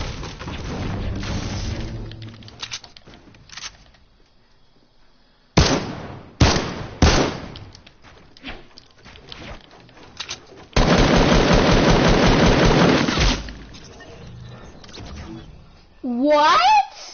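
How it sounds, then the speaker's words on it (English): Heavy sniper gunshots in a 1v1 video game match, loud sharp blasts standing out among game sounds and scattered bursts, with a long sustained roar in the middle. "Hit a heavy sniper."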